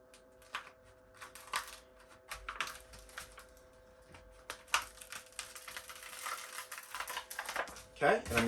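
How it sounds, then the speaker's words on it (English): Backing being peeled slowly off a Darkside Studios carbon fiber skid wrap for an ARRMA Outcast 8S RC truck, a series of close, crackly tearing and rustling bursts with brief pauses, growing louder near the end. "I'm just going to peel this off"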